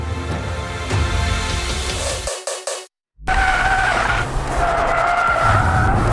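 A 2017 Ford Fiesta ST driven hard with stability control switched off skids loudly, its tyres squealing and engine roaring near the microphone, with a brief silent dropout partway through before the screeching and engine noise resume.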